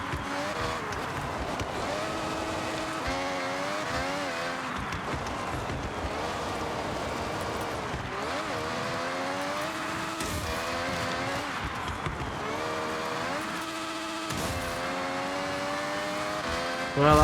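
A 1990 Alfa Romeo SE 048SP racing car in a driving game, its engine note climbing and dropping steadily through gear changes, loud and continuous with occasional tire squeal.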